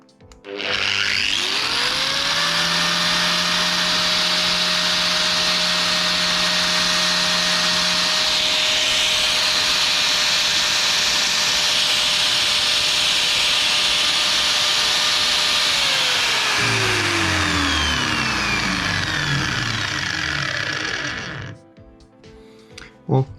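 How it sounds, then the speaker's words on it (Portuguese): A Parkside 115 mm 750W angle grinder switches on and spins up quickly to a loud, steady high-pitched whine, runs alone at full speed for about fifteen seconds, then winds down to a stop. "vamos lá então ligar a máquina e vamos ver, para vocês ouvirem como é que ela funciona a arrancar"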